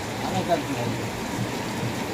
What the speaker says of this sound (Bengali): এই মুহূর্তে যেটা পড়ছে ভারী বৃষ্টি হবে